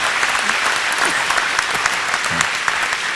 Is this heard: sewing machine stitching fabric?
no